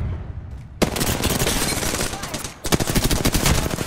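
Machine gun fire in a video game, rapid dense bursts that run almost continuously, break briefly, then resume loud and close.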